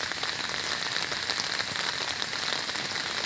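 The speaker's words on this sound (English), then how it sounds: "Yeah, walking on the rain." Steady rain falls outdoors while someone walks through it, a continuous, even patter of drops on surfaces with no talk over it.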